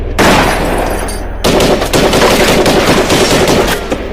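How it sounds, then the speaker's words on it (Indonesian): Sustained machine gun fire from a film scene, loud and rapid bursts with a brief break before the shooting resumes in a dense, continuous rattle. "salah seorang perampok datang langsung menghujani peluru di tempat itu"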